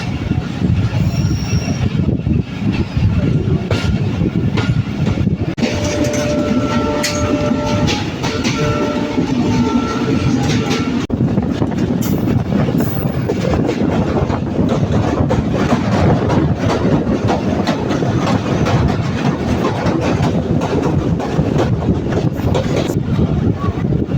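The Tungipara Express leaves Kalukhali Junction in Bangladesh and rounds a small curve toward Pangsha. A steady, loud rumble of wheels on rails continues throughout, with a sustained horn-like tone partway through.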